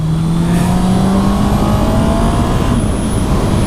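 A 2019 Honda CB650R motorcycle engine accelerates on a test ride, the revs climbing steadily in a loud, close, continuous roar with wind rush and no talking.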